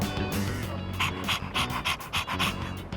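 A dog pants in the video game Persona 3 Reload, with quick, rhythmic breathy bursts that repeat steadily and sit close and fairly loud over a soft background.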